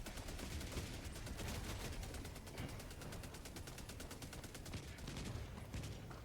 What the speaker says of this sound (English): You just look where your MG turret's firing.